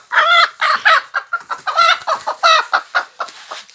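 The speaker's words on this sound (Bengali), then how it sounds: "এখন মুরগি নিয়ে আসার পালা" A hen clucks repeatedly as it is set down on a clutch of eggs for natural village-style hatching, with close, loud, rhythmic bursts of clucking and no talk.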